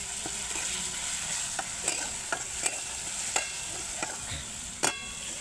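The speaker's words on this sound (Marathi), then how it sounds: "मी आता याच्यात हिरवी मिरची, लसूण, जिरी ते टाकली बरं का." Green chillies, garlic and cumin fry in hot oil with a soft, continuous sizzle, broken by several sharp clicks and scrapes as a spoon stirs the pan.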